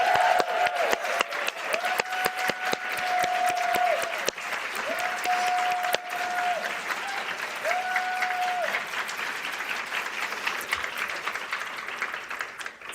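Audience applause at the 61st Annual Nebula Awards ceremony as Kat Rambo is welcomed, a steady wash of clapping across the whole stretch with a few sustained musical tones rising above it early on.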